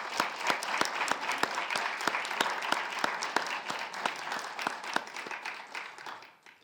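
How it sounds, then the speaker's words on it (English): Audience applause for a retiring staff member at a talk on Holy Cross and a health care center, steady clapping from a modest crowd with distinct individual claps, fading out in the last half second. "if everyone could please give a round of applause for Sandy, that would be much appreciated by me and every student that she has worked with over the years"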